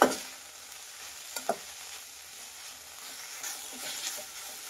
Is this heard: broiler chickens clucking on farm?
no